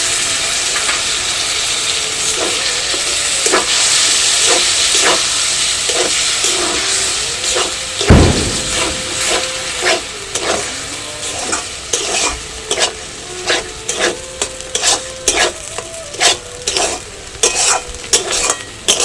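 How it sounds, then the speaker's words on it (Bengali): Tomato and green chili puree hits a hot pan for paneer malaikari, a loud sizzle that settles into frying with frequent spoon scrapes and clatters against the pan, growing more rhythmic toward the end. "দিয়ে দিচ্ছি টমেটো আর লঙ্কা পিউরি।"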